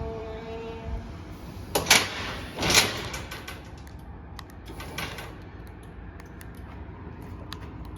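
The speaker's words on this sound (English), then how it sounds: "this wireless remote, which allows the user to open the rear doors and deploy the lift" Rear doors of a Mercedes Sprinter wheelchair accessible vehicle open by wireless remote and the lift begins to deploy, heard as two sharp mechanical clunks close together followed by quieter clicks and a steady low motor hum.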